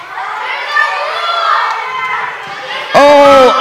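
A group of children screams and shouts together at a summer camp, a loud burst of high excited voices rising suddenly out of an adult talking, then holding strong to the end.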